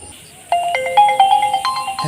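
A mobile phone ringtone plays a bright, repeating electronic melody of short tones, loud and close, starting after a brief quiet moment with no talk over it.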